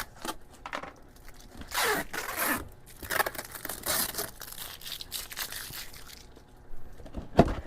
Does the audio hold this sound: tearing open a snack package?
yes